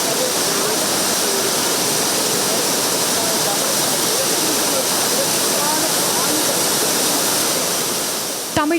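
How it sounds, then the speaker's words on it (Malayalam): Water released through the fully opened shutters of a dam pours into the Kuttiyadi river as a loud, steady, unbroken roar that hardly varies. "ഡാമിന്റെ ഷട്ടറുകൾ പൂർണ്ണമായും തുറന്ന് അധിക ജലം കുറ്റ്യാടി പുഴയിലേക്ക് ഒഴുക്കിവിട്ടു"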